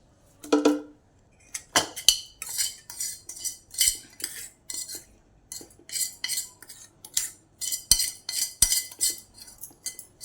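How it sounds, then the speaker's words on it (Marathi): Spoon scraping and clinking against a jar and dish while bitter gourd pickle is packed in, a steady series of close, sharp metallic taps and scrapes with short pauses and no talking. "हे असं सगळं लोणचं आपण बर्नीत भरून घेणार"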